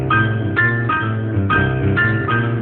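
A blues piano riff played in the lower register with the left hand, with repeated chord stabs in a steady, bouncing rhythm, loud and close, with no voices.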